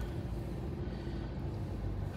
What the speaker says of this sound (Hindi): ये हुई गाड़ी स्टार्ट, क्लच छोड़ दिया हमने।